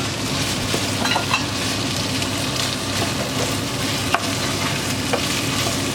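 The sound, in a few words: stirring chickpea curry in a pan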